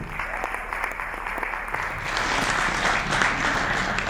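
Comedy show audience applauding steadily, a dense wash of clapping that swells louder midway and continues to the end.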